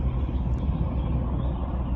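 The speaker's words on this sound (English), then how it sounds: "distractions like this helicopter noise" A helicopter passing overhead during quiet meditation outdoors, a steady low rumbling drone that fills the space without pause.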